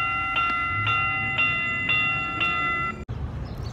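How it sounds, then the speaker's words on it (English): A train at a station gives a series of repeated high ringing tones over a low rumble, then stops abruptly with a sharp thump near the end, heard outdoors on a cold day. "We're waiting on the train."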